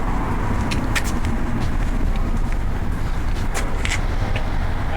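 A new Toyota Supra sits close by with a steady low engine rumble and broad road-like noise throughout, punctuated by a few brief sharp clicks and taps.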